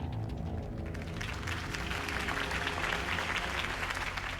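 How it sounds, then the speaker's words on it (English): An in-game crowd at a Harvey Dent campaign rally in Batman: The Telltale Series breaks into applause, a dense wash of clapping that swells and holds steadily for several seconds at moderate distance. "could have heard that applause"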